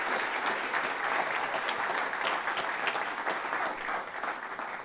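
Steady applause from an audience at a Denver Metro SBDC Trout Tank pitch-competition final, honoring a contestant; dense continuous clapping fills the whole stretch at even loudness with no talk over it.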